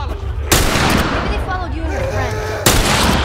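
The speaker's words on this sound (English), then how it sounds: "This same rifle is weird. It loads multiple shots." Loud rifle gunfire in The Last of Us Remastered on Grounded difficulty during a winter section, with two sharp close shots and a booming echoing tail rolling between them.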